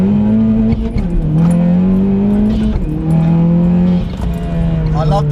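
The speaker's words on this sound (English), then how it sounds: "I love the blow-off sound." A stage 2 tuned Audi S1 accelerates hard, its loud engine tone rising through gears with turbo blow-off valve whooshes between shifts, while people talk over it inside the car.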